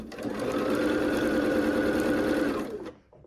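A sewing machine stitches quilt seams in a fast, even whir at close range, running steadily for nearly three seconds before stopping abruptly.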